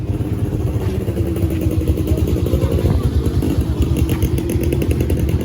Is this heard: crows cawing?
no